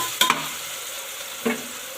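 Tomatoes and onions sautéing in a pan for a beef curry, a soft steady sizzle with two brief scraping stirs from a spoon.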